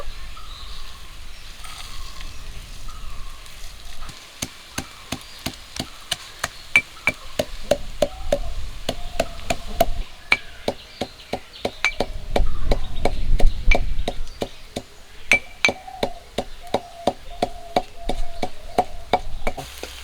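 Cooled, fried whole spices are pounded into powder in a kitchen, making a long run of sharp, steady knocks that come close and loud. A few softer scraping passes fall between the strikes, and no one talks.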